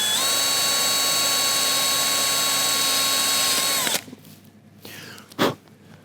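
A power drill whines at a steady high pitch for about four seconds, drilling slowly into a box on a RAM 1500 front bumper, then stops, followed by a couple of brief handling noises.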